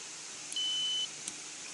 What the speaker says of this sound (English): You're gonna listen to a sound that is gonna show you that I have started the timer for 2 minutes.